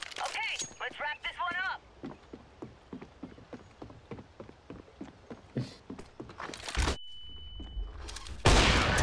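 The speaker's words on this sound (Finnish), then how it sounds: "Flashbang out." A flashbang grenade goes off in the CS:GO video game: a sharp, loud blast followed by a steady high ringing tone, then another loud burst, after a voice and a run of quick clicking sounds.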